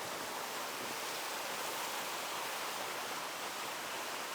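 Baş Daşağıl waterfall in Oğuz roars as a constant dense rush of falling water, loud and unbroken throughout, with no voices.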